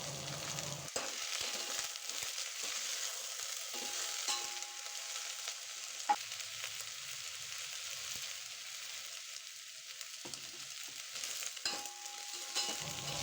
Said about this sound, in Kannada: ಎಣ್ಣೆಲೇ ಚೆನ್ನಾಗಿ ಬಾಡಿಸ್ಕೊಳ್ಳಿ.